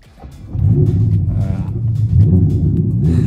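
Ferrari Roma engine firing up from a quiet start, settling into a loud, steady low rumble that swells again toward the end, with no talk over it.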